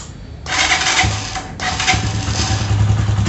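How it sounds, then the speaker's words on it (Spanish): A motorcycle engine starts up close by after a clutch disc change. A whirring starter cranks first, then the engine catches and settles into a steady, throbbing idle. "Ahora vamos a darle encendido."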